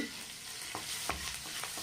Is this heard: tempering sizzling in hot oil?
yes